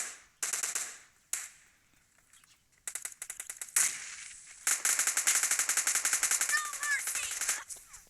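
An M249 machine gun fires in a video game in long rapid bursts, loud and close, with short pauses between volleys and a sustained stream of shots toward the end.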